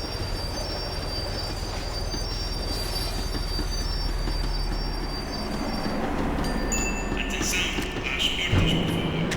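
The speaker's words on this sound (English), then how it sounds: "The tram was slowing down, and I'd only just gotten on board." A tram slowing down in the video game Max Payne 3, steady rolling rumble with metallic wheel squeal rising and sharpening near the end as it brakes.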